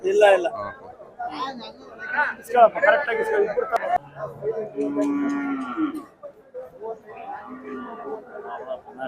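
A cow moos in a long low call amid lively chatter from several people nearby at a cattle market where prices are being bargained.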